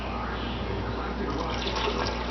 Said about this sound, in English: I'm going to add some water to it